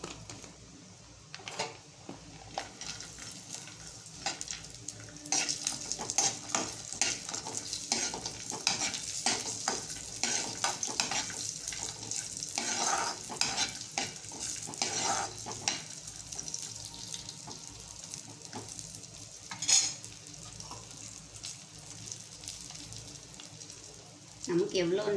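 Cashews and raisins sizzle softly in ghee while a spoon stirs and scrapes the pan with frequent clicks, and someone talks intermittently over the cooking.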